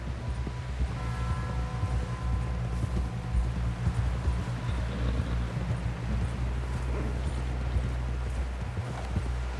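Horse hooves in Red Dead Redemption 2, a continuous rhythmic clip-clop of a ridden horse over a low rumbling outdoor game ambience, moderately quiet and without speech.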